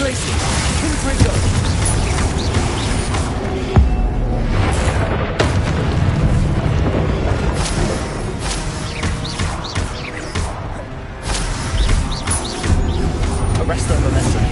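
Spell explosions in Hogwarts Legacy, including the fiery Confringo, boom repeatedly amid continuous loud combat effects over about fifteen seconds, with voices mixed into the fray.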